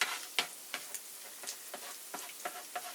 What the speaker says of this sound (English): now I'm going to take my spatula and I'm going to start breaking the eggs up